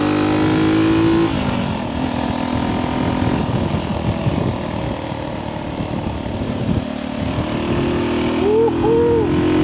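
A vintage 1964 Honda C200 motorcycle drones along on a ride, its small engine humming steadily and close with a pitch drop at a missed shift, then rising again as it carries on.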